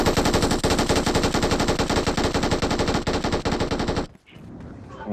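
Sustained rapid automatic gunfire in the video game BGMI, loud and close, rattling continuously for about four seconds before cutting off into quieter game ambience.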